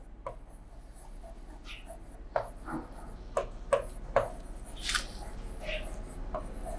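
Pen strokes scratching across paper while working out accounting figures, a series of short scribbles and taps with brief pauses between them, quiet and close against a faint background hiss.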